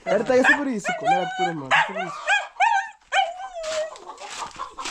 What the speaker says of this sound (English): My dog is celebrating.